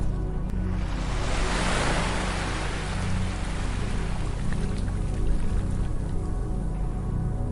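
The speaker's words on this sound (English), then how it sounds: "My spirit is cleansed with the rhythmic flow of the ocean's waves." Ocean waves break on a beach in a broad, continuous wash of surf that swells and recedes with a soft roar. It stays steady and close throughout, with no talking.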